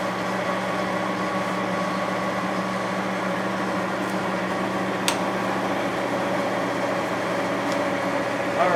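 A Cincinnati Bickford Super Service 5-foot radial drill on 110 volts runs with a steady, loud motor hum and whine. It holds constant throughout with a few faint ticks and no talk.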